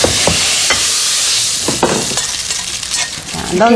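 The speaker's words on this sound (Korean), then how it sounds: "스며든 상태에서 이렇게 윤기 있게 볶아 주셔야 돼요" Glass noodles stir-fried in braising sauce for japchae, a loud close sizzle with repeated scraping and tossing stirs throughout.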